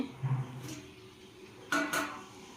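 Fried potato and pumpkin curry is stirred with spices in a pan, giving a few faint scrapes and clinks of a utensil against metal, with one louder scrape near the end and no voices.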